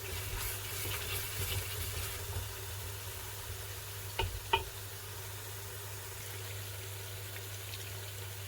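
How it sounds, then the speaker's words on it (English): Tomatoes fry in a pot for Nigerian vegetable soup, giving a quiet, steady sizzle under a low hum, with two brief scraping knocks of a spoon stirring partway through. "You keep stirring so that the tomatoes will not get burnt"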